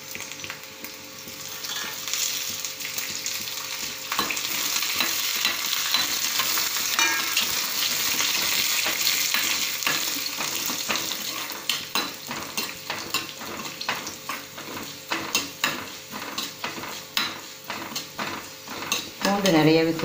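Garlic sautéing in a pan for traditional coriander chutney, with a steady close sizzle and repeated scraping and clinking of a spoon stirring against the pan, growing more rhythmic later.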